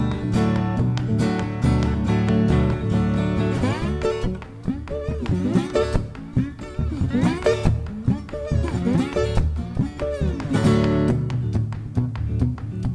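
A guitar is played in a driving, chugging rhythm, with sliding, bending notes that imitate a speeding train, loud and continuous with no voices.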